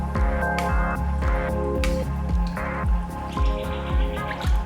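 A utensil stirring chicken breasts in cold brine makes repeated wet sloshing and dripping sounds in a steady rhythm, close and fairly loud with no talking.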